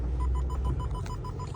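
A rapid series of short electronic beeps from a Lexus LS430 parking assist sensor repeats at a steady pace over a low vehicle rumble.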